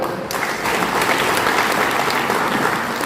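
A crowd at a trader training event applauds, loud and continuous hand clapping that swells after a brief start and carries evenly to the end.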